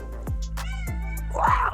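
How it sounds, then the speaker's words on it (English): A small kitten meows several times in quick succession, close and clear, ending in a higher, more drawn-out cry. "That's the sound of my new kitten."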